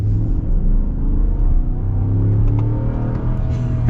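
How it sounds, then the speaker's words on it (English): A 2024 Ram 1500 Laramie pickup with a Hemi engine accelerates, heard from inside the cab as a loud, steady low engine rumble and drone rising slightly in pitch. "I'll get a real acceleration up here in just a moment."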